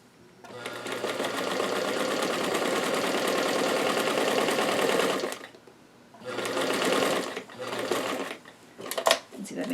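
Sewing machine basting gathered doll dress fabric, stitching in a steady fast whir for about five seconds, pausing, then running again in shorter bursts with a few clicks near the end.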